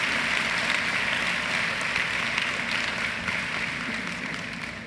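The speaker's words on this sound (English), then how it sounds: "let's give friends and family a round of applause" A crowd at a commencement ceremony claps steadily for a few seconds, a dense wash of applause that slowly tapers off.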